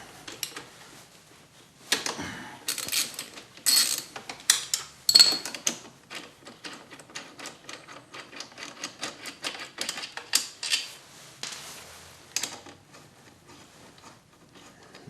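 A ratchet loosens brake bolts during a rear tire change, giving close, crisp bursts of rapid metallic clicking that start and stop irregularly, with brief pauses between runs and no talking.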